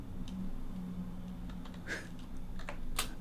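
Quiet, sparse keystrokes on a computer keyboard, a few isolated clicks over a low background hum.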